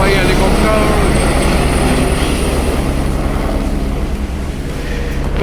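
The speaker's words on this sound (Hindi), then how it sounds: "तो भाई हेलीकॉप्टर" A helicopter flies low over a rooftop with a helipad on the Kedarnath route in the mountains, its loud, steady rotor and engine roar filling the whole stretch and easing slightly near the end.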